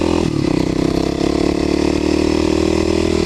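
A Kawasaki KLX250sf single-cylinder motorcycle hums steadily while riding on country gravel back roads, a close, even engine drone with wind rush mixed in, heard from the bike itself.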